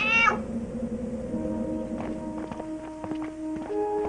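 A single short meow sounds near at the start, followed by soft scattered taps and light footsteps in a quiet room.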